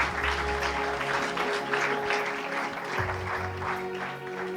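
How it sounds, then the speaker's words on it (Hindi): Loud, sustained applause from a church congregation during a sermon by Rev. Qamar Ul Zaman, a dense, steady wash of clapping that fills the whole stretch without letting up. "जोरदार ताली ये सुन सकते हैं।"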